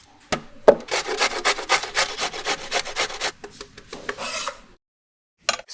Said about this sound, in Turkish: İki havucu soyun, rendeleyin.